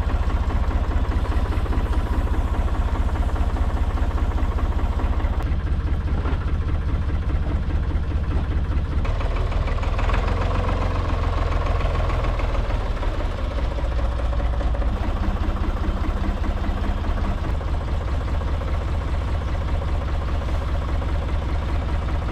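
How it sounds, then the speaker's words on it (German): A tractor engine runs steadily at idle, a deep continuous chugging rumble close by, with slight changes in pitch and no voices. "Ich hole mal den Trecker."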